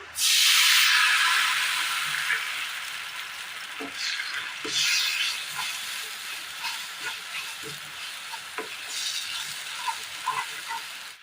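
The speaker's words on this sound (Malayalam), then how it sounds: "ഇനി ഇതിലേക്ക് നമ്മൾ മിക്സ് ചെയ്ത് വെച്ചിരിക്കുന്ന ഒഴിച്ചു കൊടുക്കാം." A mixture of coconut milk being poured into a hot pan and stirred, starting with a loud hissing sizzle that slowly settles into a steady frying hiss, with soft scraping and knocking of the spoon throughout.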